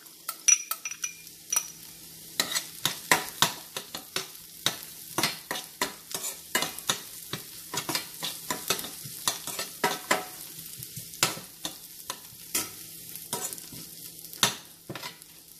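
Shallots, ginger and garlic fry in a pan over a quiet low sizzle, punctuated by frequent sharp metallic clinks and scrapes of a utensil stirring against the pan.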